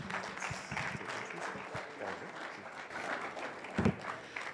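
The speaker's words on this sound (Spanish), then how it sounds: "para el cual les pido un fuerte aplauso" Conference attendees at a forum on oil and energy give a moderate round of applause, scattered claps blending into a soft continuous patter with a louder thump near the end.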